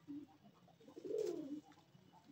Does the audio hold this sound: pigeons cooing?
yes